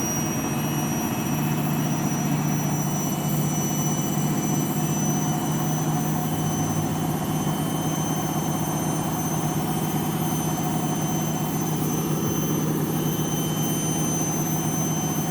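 A washing machine on a synthetic 40 programme runs its final spin at 1000 RPM, giving a steady, unbroken mechanical whir with a constant high whine over a low hum.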